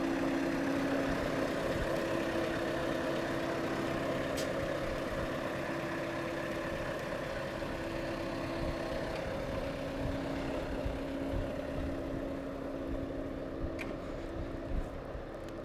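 A 60-tonne Scania semi-trailer truck hauling construction machinery pulls out onto the road, its engine a steady low drone with a sustained tonal hum, moderately distant and unbroken, with no talking.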